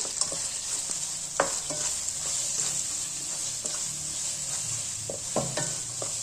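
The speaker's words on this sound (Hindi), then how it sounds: "ये डाल देंगे और इसको मिक्स करेंगे" Red chili powder and turmeric being stirred into mutton keema frying over low heat, a steady sizzle punctuated by sharp spoon scrapes and clacks against the pan, no one speaking.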